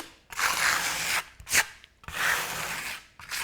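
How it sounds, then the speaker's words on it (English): A trowel spreading SkimStone over bonding primer, heard as three close, rough scraping strokes with short pauses between them and a quick tap in the middle, loud and alone without any talk. "I lead with that front edge of my trowel, keeping the trowel at about a 45-degree angle"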